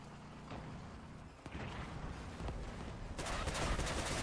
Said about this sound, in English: I hear rapid fire cannons.